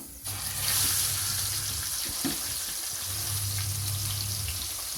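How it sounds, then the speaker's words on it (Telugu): Pieces of Andhra-style wet-spiced fish fry in hot oil, giving a bright, continuous sizzle that holds steady throughout with a few small pops. "ఆయిల్ వేడెక్కిందండి ఇప్పుడు చేప వేసుకుందాం"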